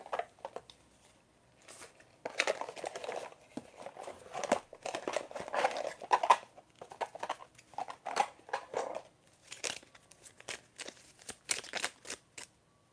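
A tarot deck is shuffled by hand in quiet bursts of papery riffling and crinkling, the card noise rising and falling in irregular clusters close by, with no talking.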